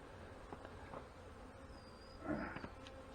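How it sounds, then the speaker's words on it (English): Honey bees hum inside an opened hive during an early spring inspection, a soft steady drone close by with a faint, brief swell near the end and no talking. "There's a good population of bees in here still."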